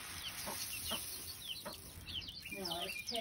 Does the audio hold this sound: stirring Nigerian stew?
no